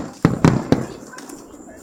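Fireworks bursting over Dolphin Island, three sharp booms in quick succession followed by fading crackle, with voices of onlookers nearby.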